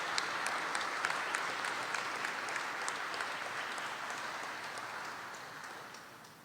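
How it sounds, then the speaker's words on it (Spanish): A congregation at a Chrism Mass applauds those present: a steady, dense wash of clapping from a large crowd, slightly distant and sustained, easing off toward the end. "Les damos un aplauso a los que están aquí presentes."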